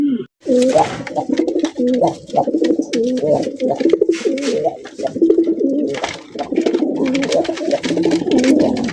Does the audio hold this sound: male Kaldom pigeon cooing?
yes